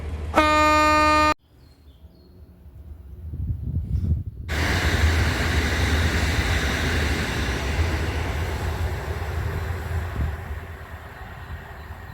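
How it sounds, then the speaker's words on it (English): A train pulls into Crowhurst Station in East Sussex, its horn blaring in a loud two-tone blast at the start, followed after a short gap by the steady, rising rumble and rattle of the train rolling in and continuing alongside. "here comes my train at last"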